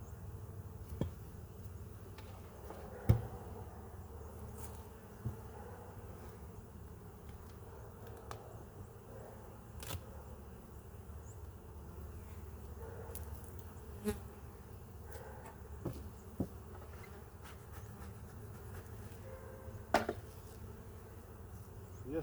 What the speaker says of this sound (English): Yes, there's still plenty of bees up here.